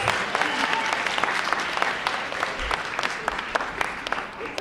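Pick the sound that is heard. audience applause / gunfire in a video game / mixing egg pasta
audience applause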